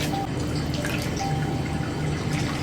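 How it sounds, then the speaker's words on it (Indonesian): Rinse water poured over hair during a final hair wash for an elderly person, a steady close splashing and trickling stream that continues without a break. "Ini siraman terakhir."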